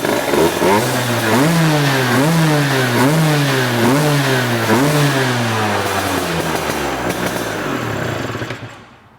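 A small 1980s Vespa PK small-frame scooter engine, running without a gas tank, starts and revs repeatedly in rising and falling surges, close and loud, then idles down and cuts out.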